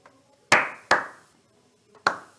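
Three sharp, separate hand claps in a quiet room, close and fairly loud, with uneven gaps between them. This is a sparse, mock round of applause rather than a crowd.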